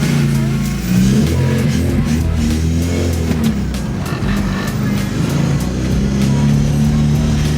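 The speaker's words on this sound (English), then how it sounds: "I was actually able to get the E30 started." BMW E30 engine idling just after starting, a loud, close, continuous rumbling drone with a steady low hum and slight rises in revs, running alone without pause.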